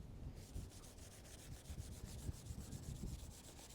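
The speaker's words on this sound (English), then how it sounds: "that gritty sound of the paint here, this paint has a ton of heavy contaminant stuck to it" A faint, gritty scraping rub as a clay bar works over car paint heavily contaminated and unlubricated, repeating in short back-and-forth strokes, close up and quiet, with no voices.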